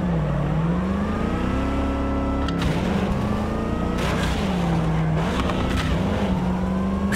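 A car driven in Cyberpunk 2077 Phantom Liberty, its engine droning steadily and loud, with rising and falling pitch as it shifts and accelerates, plus a brief burst of extra noise partway through.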